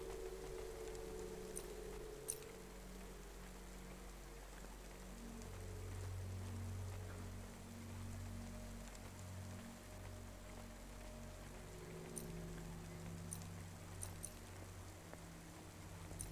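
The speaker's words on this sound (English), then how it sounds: "Don't let all the rain get you down." Steady rain falls outside a restaurant in the video game Cloudpunk, a constant soft patter and hiss over a low background hum, with no voices.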